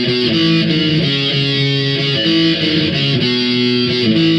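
Heavily distorted electric guitar plays a pop-punk part with repeated chord and note changes, loud, steady and unbroken, with no voices.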